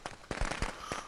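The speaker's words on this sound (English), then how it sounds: "I threw the fireworks right through the window, apparently, even though I was a foot and a half away from it" Fireworks thrown through a window in the Friday the 13th video game, a quick burst of several sharp firecracker pops and crackles in rapid succession, fairly faint.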